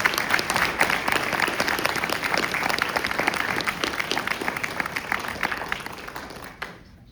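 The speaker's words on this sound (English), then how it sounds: "Big round of applause on the show." A Comic Con audience at the Indiana JAG panel with Catherine Bell and Patrick Labyorteaux breaks into dense, sustained applause, many sharp claps blending into a loud, even roar before trailing off.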